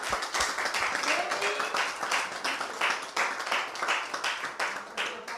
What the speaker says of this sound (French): Et Noémie qu'on va applaudir.